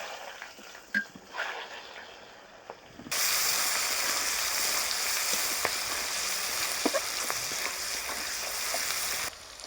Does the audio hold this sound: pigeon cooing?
no